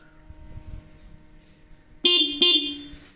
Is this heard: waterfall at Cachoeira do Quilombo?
no